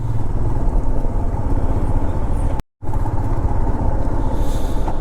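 A motorcycle engine runs steadily and loudly on a mountain road between Gangtok and Lachung in Sikkim, a continuous close drone broken by a brief dropout near the middle.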